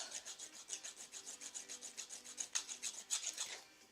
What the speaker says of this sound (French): C'est ma lime ronde.